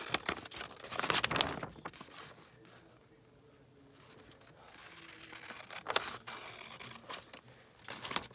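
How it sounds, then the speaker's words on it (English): Scissors snip through paper for a junk journal page in a few quick, close cuts, with soft paper rustling and handling noises in between. "I'm going to cut it off. I'm actually going to cut it right here."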